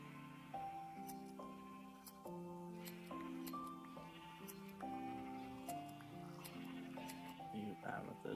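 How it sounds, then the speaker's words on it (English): A sheep in a video game bleats after being hit, giving several short wavering cries mixed with other game sounds, while a voice can be heard alongside. "Oops, sorry, I didn't mean to hit that sheep."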